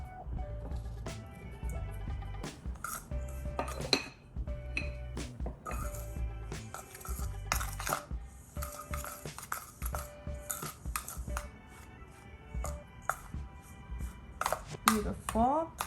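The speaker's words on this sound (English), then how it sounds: "we're just gonna stir all these together." Dry ingredients for keto cinnamon sugar squares, with a pinch of salt, are stirred together in a bowl: a busy run of clinks, taps and scrapes from the utensil against the bowl, close and uneven, with quieter gaps between strokes.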